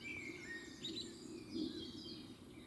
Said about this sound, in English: I do believe he just put the camera on to listen to the bird's song.